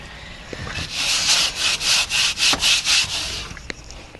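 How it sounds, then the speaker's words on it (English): Rhythmic back-and-forth sanding strokes on a motorhome kitchen surface during an RV renovation, about seven steady rasping passes up close, then tapering off, with no talking. "Actually, I'm just going to sand over it."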